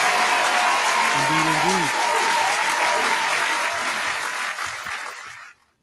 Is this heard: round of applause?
yes